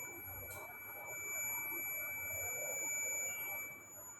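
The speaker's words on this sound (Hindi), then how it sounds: "इस दोनों पॉइंट को टच करते हैं तो जैसे बीप की आवाज़ आ रही है" A digital multimeter in continuity test mode gives a steady, unbroken electronic beep that holds quietly throughout, with no talking.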